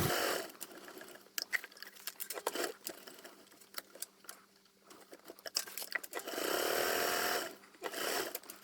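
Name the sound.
sewing machine stitching fabric for a bag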